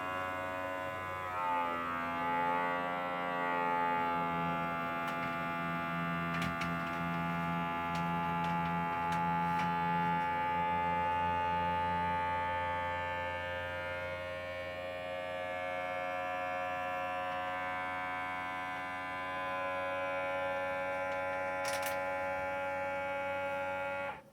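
A vacuum sealer runs with a steady, buzzing motor hum and a pulsing low tone that fades partway through, the droning whine continuing close and even to the end, no one speaking.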